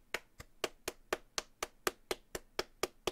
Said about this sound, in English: I think we should clap for them together.